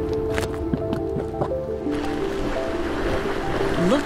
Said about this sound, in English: Listen to fumaroles, the hottest hydrothermal features, hiss and growl as heat flashes the limited water underground into steam.